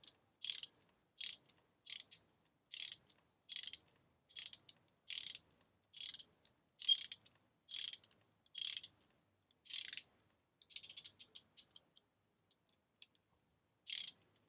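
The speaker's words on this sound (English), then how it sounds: "I'm just going to tighten those until I feel a tiny bit of resistance" Ratchet wrench tightening the bolts of a Tongsheng TSDZ2 250W mid-drive motor fitted to a narrow road bottom bracket on a racing bike, a steady series of about a dozen crisp, close ratcheting bursts followed by faster, lighter clicking.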